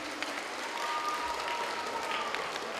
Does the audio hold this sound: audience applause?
yes